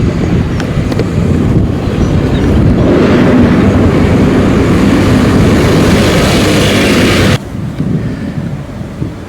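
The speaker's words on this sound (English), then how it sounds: "can hear vehicles behind me" Heavy vehicles rumbling around a steelworks near Sheffield, a loud, continuous low roar that holds for several seconds before cutting off abruptly to a quieter background rumble.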